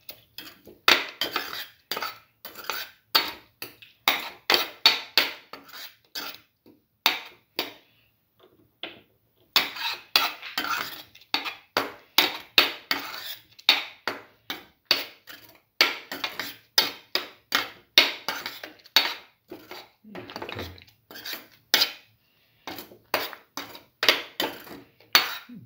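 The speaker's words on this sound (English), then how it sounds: "Keep on sauteing." A coconut milk mixture for sweet coconut milk balls is stirred in a pan, with rapid, regular metallic scraping and clinking of a spoon against the pan repeating close up for the whole stretch, briefly pausing, and no voice.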